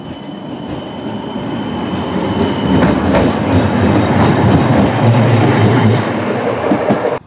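A West Midlands Metro tram on the Priestfield to Wolverhampton Station line rumbles loudly and close by with metallic wheel squeal and rail clatter, then cuts off abruptly at the end.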